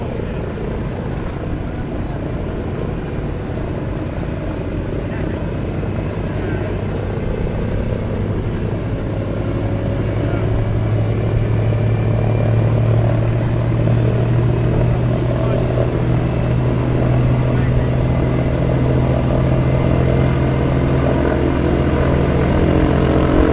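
Sky Master propeller aircraft engines idling at a ground run, a continuous deep droning rumble that grows slightly louder and stays steady, with a little talk faint beneath it.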